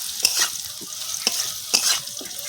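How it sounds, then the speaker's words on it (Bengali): Potatoes for a cauliflower-potato dalna are stirred and fried in a pan, a close sizzle broken by a few rhythmic spatula scrapes. "আলুটা খুব ভালো করে লাল করে ভেজে নিয়েছি"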